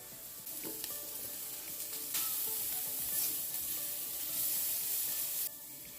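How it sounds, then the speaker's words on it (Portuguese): Garlic added to browned onions sizzles in a frying pan, a steady close hiss with soft stirring scrapes and no talking. "A cebola já está bem douradinha, então eu posso adicionar o alho antes de adicionar a carne."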